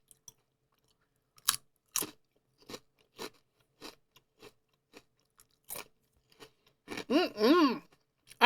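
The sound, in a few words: crunching prosciutto-flavored potato chips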